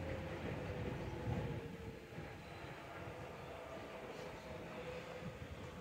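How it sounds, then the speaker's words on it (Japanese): A Tobu Railway local train departs a station in Japan, rumbling steadily close by, a low continuous rolling roar with faint metallic rail noise, no talking over it. "東武鉄道の普通電車が出発していきましたけど"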